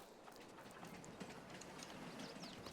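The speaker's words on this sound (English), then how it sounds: "There's the train." A train passes in Farming Simulator 22, a steady low rumble with faint clattering wheels held throughout at a quiet, distant level.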